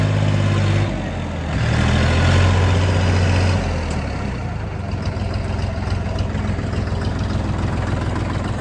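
A Kentavr Model F 244 XU tractor engine idles steadily with a low, rattling chug, close by and constant throughout.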